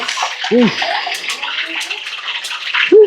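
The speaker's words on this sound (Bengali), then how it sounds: "তেলে জল ঢেলে দিচ্ছ" Water is poured into hot oil during home cooking in a village kitchen, producing a steady close splashing and sizzling wash, with a voice briefly heard.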